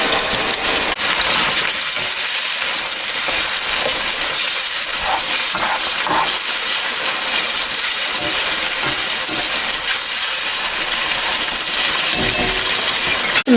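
Meat frying in a pan for a budget dinner, a steady loud broadband sizzle that hisses continuously through the whole stretch, with a few faint clinks. No one speaks.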